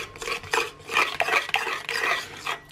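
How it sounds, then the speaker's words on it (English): Chocolate truffle mixture is stirred in a bowl, giving repeated scraping and clinking strokes of a utensil against the bowl in an uneven rhythm, close and moderately loud, with no voices. "get to work stirring your lovely mixture together"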